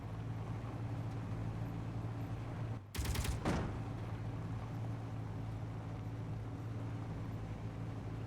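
Turret gunfire aimed at a drone in Space Engineers, a brief sharp burst of shots near the middle over a constant low engine drone.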